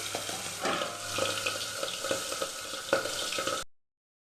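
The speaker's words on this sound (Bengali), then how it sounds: "আমি একটা একটা করে মাছ ছেড়ে দিচ্ছি।" Pieces of boal fish hiss and crackle as they go one by one into hot oil, a steady close sizzle with sharper spits and pops, ending abruptly.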